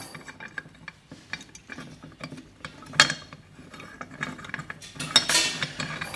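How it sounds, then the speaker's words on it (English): A bolt is screwed into a bicycle suspension bearing tool for a Trek Rail, giving quiet, irregular metallic clicks, ratcheting ticks and small scrapes close by, with a sharper clack near the end. "that goes through there, over the top, just screw it in there"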